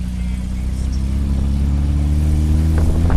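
A car rolls along a rough dirt track, its engine a steady low drone with road rumble from inside the cabin, ending with a few faint clicks and knocks.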